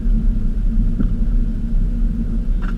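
A manual Subaru BRZ's engine gives a steady, deep low rumble from inside the car as it creeps slowly over speed bumps, with a faint bump or knock partway through.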